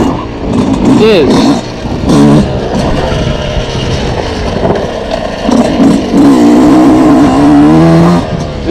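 A 2026 Yamaha YZ125X dirt bike rides over rocky trails, its engine revving up and down in uneven bursts at close range, with a voice talking over it.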